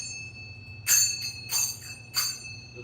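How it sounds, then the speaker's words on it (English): Manjira, small Indian hand cymbals used in devotional bhajan singing, struck three times at an even pace, each a bright ringing clash that decays over a faint steady background hum. "This is called manjira."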